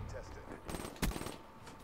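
Bursts of gunfire in Black Ops 3 multiplayer, the Salvation DLC map Outlaw, with a sharp loud shot near the middle over a busy, continuous game mix.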